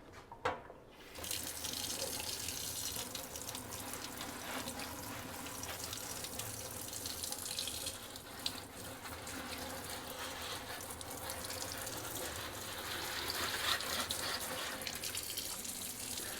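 A dusty houseplant is rinsed under a running kitchen tap, a steady, close rush of water splashing into the sink for the whole stretch after a brief quiet start, with no voices.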